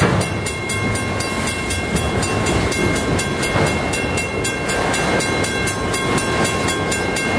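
Freight train of intermodal container cars rolling past a trackside spot on CP in Windsor, Ontario, a steady loud rumble with continuous clickety-clack wheel and car noise throughout, no talking.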